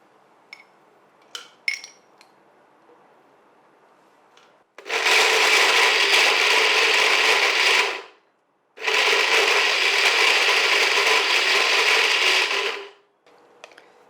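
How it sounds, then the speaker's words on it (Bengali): A blender grinds dates into a paste for brownies in two loud, steady bursts of about four seconds each, separated by a short pause, after a few light clicks and knocks. "ব্রাউনির জন্য আমাকে খেজুর একটু বাটতে হবে"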